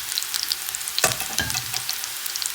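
Coriander leaves frying with onion and garlic produce a loud, bright, continuous sizzle, with a sharp burst as the leaves hit the hot oil, heard up close without talk.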